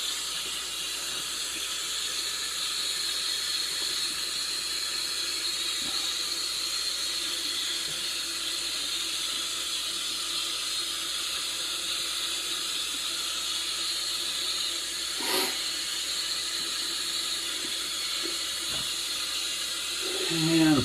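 Tap water runs steadily into a sink while a face is washed after shaving, a continuous hiss with a few faint splashes and knocks, fairly quiet.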